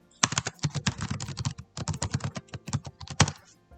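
Typing on a computer keyboard while entering a name in Excel, rapid bursts of crisp key clicks in two runs separated by a short pause, close and clear with no talk.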